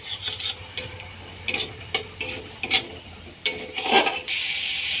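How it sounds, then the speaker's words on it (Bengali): Masala with water stir-fried in a pan, heard as repeated scraping and rubbing strokes of a utensil against metal over a low simmering hiss, close up with no speech. "এবার ভালো করে কষিয়ে নিতে হবে।"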